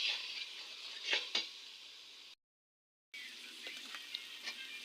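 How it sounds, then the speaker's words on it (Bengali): Spices with green chilli powder and salt frying in a pan for chicken biryani, giving a faint, steady sizzle with a few soft stirring scrapes, broken by a brief silent gap. "দিয়ে দিচ্ছি কাঁচা লঙ্কার গুঁড়ো, স্বাদ মতো লবণ দিয়ে ভালো করে ভেজে নিচ্ছি।"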